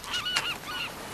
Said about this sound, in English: Hey, look at that seagull.